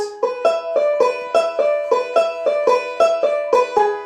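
A banjo plays a standard lick up the neck in Scruggs backup style, a crisp run of evenly spaced plucked notes in a steady rhythm, close and alone.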